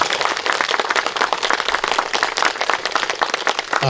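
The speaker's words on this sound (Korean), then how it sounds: "박수 한번 크게 보내주시죠." Audience at a Trust Forum political rally in Dobong, Seoul, applauding loudly and continuously; dense, steady clapping fills the whole stretch with cheering mixed in.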